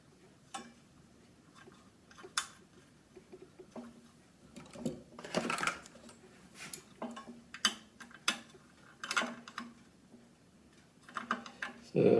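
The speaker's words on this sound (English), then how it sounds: "So I'm tightening the switch up so when I turn the switch it won't rotate in the hole." A small brass switch is being tightened into the hole of a floor lamp, giving a scattered series of faint metallic clicks, taps and scrapes at close range, with quiet handling noise between them.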